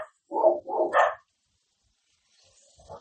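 A large, reactive dog barks three times in quick succession, loud and close. A brief, fainter yelp or bark follows near the end, after a pause of silence.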